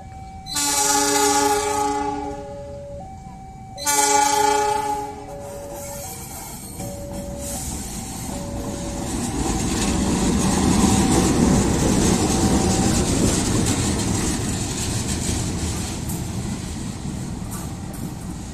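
A CC 206 locomotive sounds two long, loud horn blasts at Garut station, then rumbles past with heavy, rising wheel and engine noise that swells and stays steady to the end.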